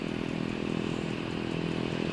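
Beechcraft Turboprop Duke engine idling in a flight simulator, a steady, even mechanical drone with a faint rattling texture that holds at constant loudness throughout.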